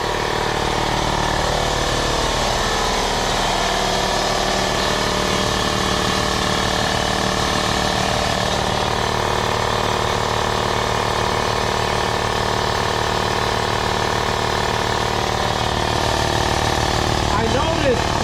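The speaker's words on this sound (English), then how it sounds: "it is pretty loud in the garage. But it is putting a lot of air out right now" A 220V Eastwood air compressor runs loudly in a garage, a steady, unbroken mechanical drone with a motor hum that holds at the same level throughout.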